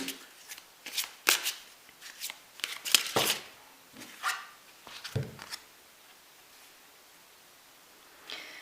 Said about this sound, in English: Let's pull a few more of these oracle cards, and we'll also get some tarot for you.